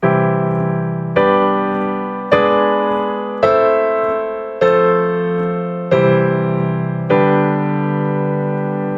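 A slow keyboard chord progression built to create suspense, with borrowed chords, seven full sustained chords struck roughly every second and a quarter, each ringing and decaying before the next, solo with no talk.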